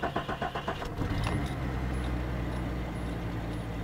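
A car cranks over and catches on the first try, settling into a steady, slightly rumbly and shaky idle close by, with no one talking.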